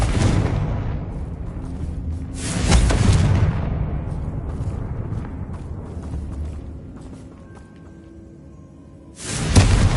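Confringo fire spell blasts in Hogwarts Legacy: a booming explosion around the three-second mark fades into a rumbling tail, then a second loud blast erupts at the end, with no talk.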